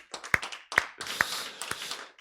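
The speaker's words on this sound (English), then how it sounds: "Let's give her another round of applause." A few sparse claps at a Sunday celebration service, heard as scattered sharp hand strikes spread across a couple of seconds, fairly faint, with no voices over them.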